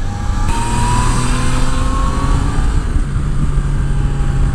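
Yamaha Niken three-wheeled motorcycle engine accelerating while being ridden in the rain, a loud, steady, close drone of engine and wind noise throughout with a slowly rising pitch.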